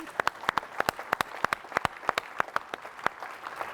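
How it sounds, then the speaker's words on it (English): An audience at an annual dinner gala breaks into sparse, distinct claps, individual sharp hand strikes scattered at an uneven pace rather than a dense roar, fairly close and moderate in level. "Give yourselves a big round of applause."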